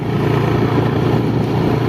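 A motorcycle is ridden along in the early morning, its mid-pitched engine droning steadily and loudly up close, with constant wind and road noise and no break in the sound.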